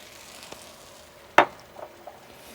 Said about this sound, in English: we're going to add some hot chili oil to this.